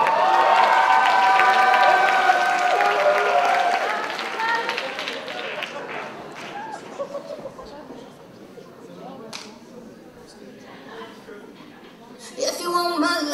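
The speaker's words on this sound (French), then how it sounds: "chocolat et vanilla, on les applaudit bien fort" An audience at a cosplay contest applauds and cheers loudly, with the crowd noise strongest at the start and then fading into scattered claps, voices and chatter.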